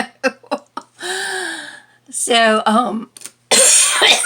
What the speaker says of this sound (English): I thought I was doing so well, and then I just coughed.